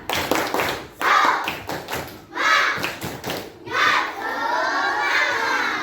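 Schoolchildren in an Indonesian classroom perform a rhythmic clapping chant, with bursts of claps and taps in short patterned groups, shouted voices joining in, and a sustained cheering wash toward the end.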